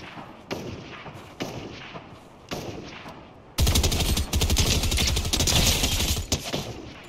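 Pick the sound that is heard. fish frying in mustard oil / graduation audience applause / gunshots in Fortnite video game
gunshots in Fortnite video game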